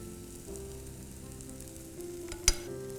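Spiced dosa filling seasoned with salt, red chilli powder, garam masala and turmeric frying steadily in a pan, a continuous soft sizzle with stirring and a single sharp clack of the utensil near the end.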